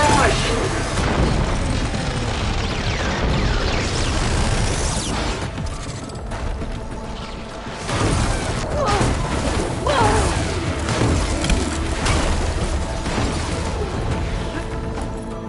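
A fire barrage attack in Horizon Forbidden West, a loud sustained onslaught of booming explosions and crashing impacts, rising in bursts with a brief lull midway, over a busy game soundtrack.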